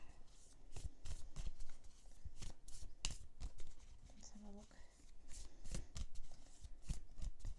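Alice in Wonderland oracle cards being shuffled by hand during a psychic reading, a repeated run of crisp riffling and slapping card sounds close up, with soft speech in between.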